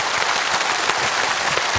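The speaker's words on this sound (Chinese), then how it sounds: "掌声欢迎" A studio audience claps, producing a dense, even wash of applause that holds steady and fairly loud through the whole stretch.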